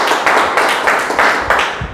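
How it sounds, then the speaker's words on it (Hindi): Audience at a Renatus Wellness company meeting bursting into loud, sustained applause, dense overlapping claps surging in waves throughout, with no talking. "तो हम चाहेंगे कि हमारा कंपनी के लिए भी जोरदार ताली होना चाहिए।"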